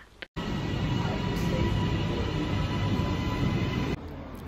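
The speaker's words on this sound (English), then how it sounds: "On the train now" Steady rumbling interior noise of a moving passenger train in England, constant and fairly loud, with a brief dropout near the start and a slight change toward the end, no voices.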